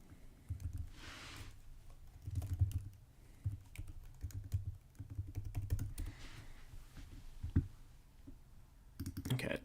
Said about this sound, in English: it's gonna make me type it in again